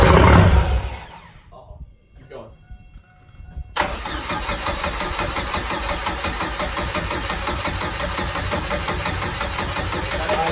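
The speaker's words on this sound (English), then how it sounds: "Bring a little bit in there. It should fucking just start it up." A turbocharged Chevrolet Cavalier engine cranks, falls quiet for a moment, then catches and settles into a loud, rough steady run close by, with people talking over it.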